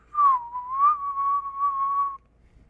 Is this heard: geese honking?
no